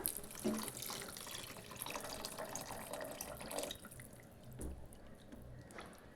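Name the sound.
water being poured into cooking pan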